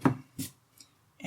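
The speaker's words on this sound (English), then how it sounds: "as I'm cutting, sometimes I'm wiggling the tool just to get a slightly more random, softer edge to the cutting" A lino cutting tool gouging a linoleum block, wiggled as it cuts: a few short, quiet scraping cuts spaced apart, close up and alone.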